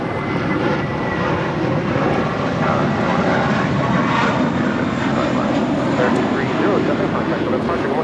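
A SkyWest aircraft powers up and takes off from runway 25 right at Los Angeles International Airport, its engines a loud, sustained broadband roar with faint radio talk underneath.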